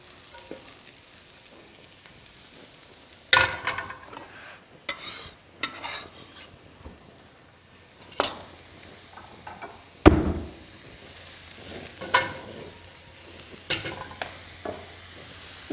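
Mushrooms sizzling in a hot oiled pan, a soft steady fry under irregular sharp clatters and scrapes of stirring and utensils against the pan, close by with no talk.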